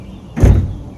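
Camper van door shutting with a single heavy thud and a brief rattle, close and fairly loud, with no talk.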